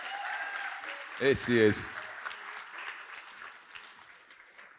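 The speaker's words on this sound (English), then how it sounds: "if you give her a round of applause" Audience applause at a mental health seminar, a brief burst of clapping from the room rising behind a presenter's introduction and then fading away as she steps up.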